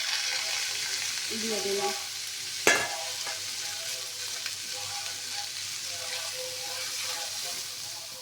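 Chopped bottle gourd fried and stirred in a pan for lau chingri, with prawns added: a constant sizzle with one sharp clatter and scattered scraping stirs, and a voice speaking briefly near the start.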